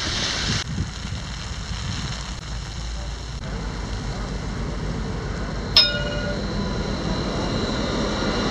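A train in Jerusalem during a snowstorm gives a steady, loud rumble with a sharp high screech partway through, over continuous street and wind noise.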